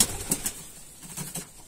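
Homing pigeons in an aviary give soft, repeated coos and a few flutters, moderately close and fairly quiet, with no talking.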